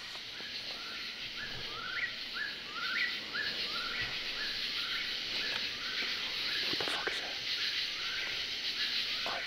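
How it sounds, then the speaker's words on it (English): A bird calls repeatedly at night in bear-country woods at 3 a.m., a series of short rising chirps at a regular pace, moderately distant over a faint hiss of insects and wind. "What kind of bird is out at fucking 3 o'clock?"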